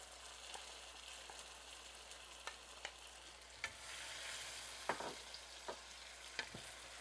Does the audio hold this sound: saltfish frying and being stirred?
yes